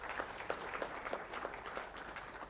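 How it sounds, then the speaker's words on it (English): Audience applause at a memorial lecture for Prof. Emmanuel Tumusiime-Mutebile, a steady patter of many hands clapping at moderate distance, with sharper individual claps standing out and no speech over it. "This deserves another round of applause."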